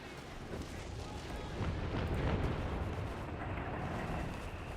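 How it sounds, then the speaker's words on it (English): Artillery rumbles and booms in a steady, dense roar of distant shelling and explosions in the Company of Heroes 3 battle on the Mignano Gap map, with no clear single shots standing out. "Artillery's hitting the back, which is hitting the Nebelwerfers."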